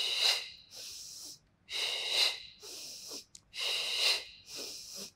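Rhythmic, forceful breaths during a beginner pilates workout, alternating long hissing exhales and inhales close to the microphone, four cycles in steady rhythm.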